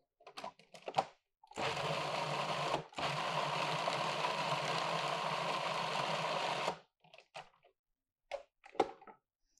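Electric mixer whirring through chocolate almond torte batter laced with orange liqueur, a steady motorized drone lasting about five seconds with a brief break, framed by soft clicks and handling knocks.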